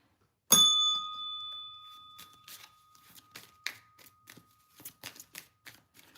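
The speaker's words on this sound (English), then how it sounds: "That frequency vibration of that bell" A single bell is struck once with a sharp ding, its metallic ring lingering and fading over a couple of seconds, followed by soft scattered rustling and tapping sounds.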